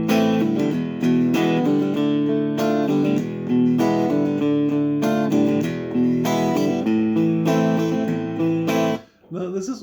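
Electric guitar plays a song, a steady strummed and picked chord pattern with a bass-note line, sounding close and continuous before dropping out briefly near the end.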